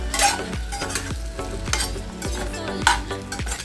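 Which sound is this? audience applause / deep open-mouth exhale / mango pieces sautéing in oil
mango pieces sautéing in oil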